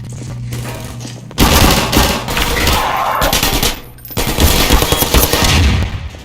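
Rapid automatic gunfire from a gun turret in the video game Half-Life 2, loud sustained bursts of rattling shots with a brief pause between two long volleys.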